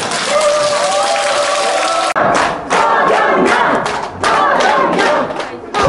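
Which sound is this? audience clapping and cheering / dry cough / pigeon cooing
audience clapping and cheering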